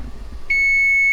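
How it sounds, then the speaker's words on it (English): After a brief low rumble, a single steady electronic oven timer beep starts and holds, loud and close. "turn that beeping off"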